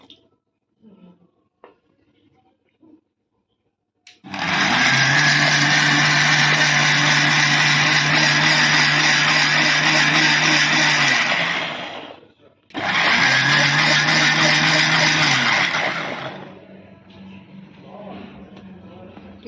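A loud electric grinder whirs as it blends a spinach mixture with a little water into paste for maize-flour parathas, running in two long bursts separated by a short pause, with soft talk before and after.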